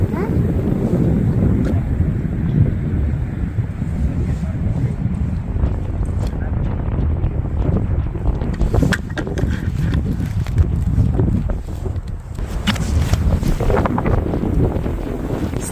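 Strong wind gusting over an open lake, a loud continuous low roar buffeting the microphone throughout, with a voice speaking over it at times.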